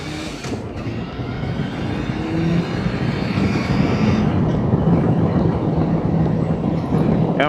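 Motorcycle engine while riding, a steady droning hum with low tonal lines that grows slightly louder after the first couple of seconds, wind and road noise mixed in, continuous and close with no talking.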